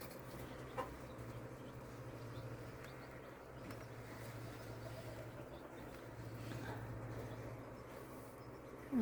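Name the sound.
broody hen clucking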